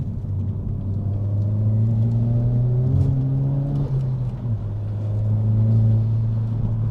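A Renault Megane R.S. 280 hot hatch accelerates hard, its engine droning loud and close with a rising, steady tone and a brief dip near the middle before it pulls on again, no talk over it.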